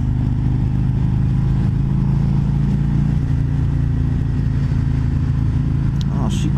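A 2020 Harley-Davidson Road King Special FLHRXS motorcycle being ridden gives a steady, loud, deep engine rumble from close by, with a constant wash of wind noise over the whole stretch.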